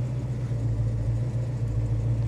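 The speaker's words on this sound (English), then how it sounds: "I just heard the fans kick on." Engine bay of a 1970 Chevy Chevelle 454 SS with its cooling fans running: a steady, loud low hum and whirring rumble that holds even throughout, with no talking.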